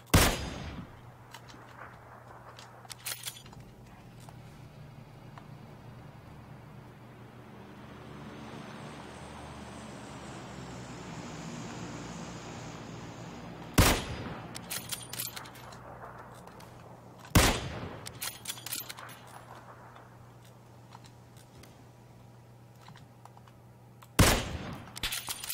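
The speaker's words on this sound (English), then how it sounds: "Why does the M2 sound like a pile of shit?" An M2 gun fires in a shooter video game, a few loud, sharp reports spaced well apart over a long stretch of surf-like rumble and ambient hiss.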